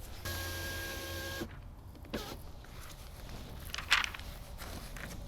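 The front door window of a 2019 BMW X5 lowers in a steady electric motor whir lasting just over a second, followed by soft handling knocks and a brief scrape while someone works on the door during window tinting.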